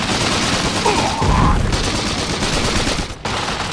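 Gunfire in Iron Harvest 1920+, a dense battlefield barrage of overlapping shots and bursts, loud and continuous, with a heavier thump near the middle.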